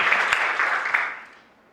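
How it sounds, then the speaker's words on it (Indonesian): A church congregation bursts into loud cheering and clapping, a dense burst of applause that fades away within about two seconds. "Berikan sorak-sorai yang meriah"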